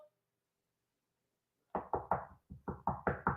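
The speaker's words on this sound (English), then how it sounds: "Knock, knock. Is anybody there?" Knuckles rap on a door in two sharp bursts of three knocks each, close and crisp against near silence.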